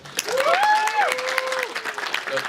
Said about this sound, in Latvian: Es gribu, lai jūs sagaidāt ar milzīgiem aplausiem mūsu jauno kinologu Daniju